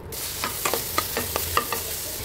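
Spiced meat filling for crisp puli pitha stirred and fried in a pan, with a continuous sizzle broken by about eight sharp spatula scrapes in an irregular rhythm, close and clear with no talking.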